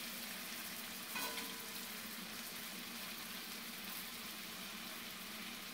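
A lobster tail sears skin side down in butter for a dish of seared scallops and lobster tail, giving a steady, close sizzle and crackle that holds evenly throughout with no talk over it.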